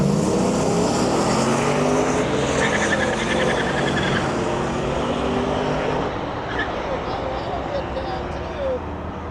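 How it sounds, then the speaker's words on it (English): A twin-turbo Hemi Fargo makes a drag racing pass, its loud engine roar and rushing exhaust filling the air and then receding into the distance, while an announcer talks over it. "Twin turbo Hemi, Fargo pulling up."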